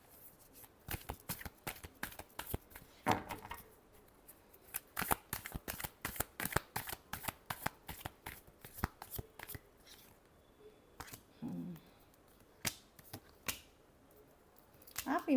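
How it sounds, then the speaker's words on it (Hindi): Tarot cards are shuffled in fast, crisp riffling bursts, a long run of sharp flicks broken by brief pauses, heard close up with occasional soft speech in between. "last shuffle"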